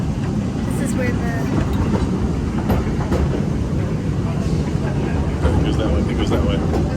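Walt Disney World Railroad train rolling along with a steady low rumble and faint rhythmic clacking, heard from aboard for about seven seconds, with occasional voices in the background.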